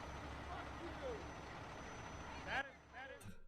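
A truck rumbles along a city street in Washington, DC, a steady low engine drone with a brief louder surge, and people's voices are heard over the traffic.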